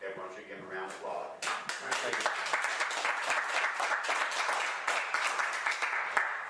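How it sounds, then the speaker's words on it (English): Applause from the audience at a township monthly meeting in Bowling Green, starting after a moment of speech and then continuing as a sustained, fairly close round of clapping to the end. "And I think everyone should give them a round of applause."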